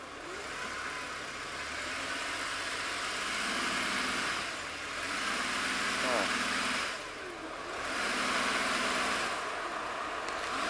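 Jeep engine idling and revving in low gear while backing out through snow, a steady mid-pitched motor hum that swells and dips over several seconds with wind-like noise on top.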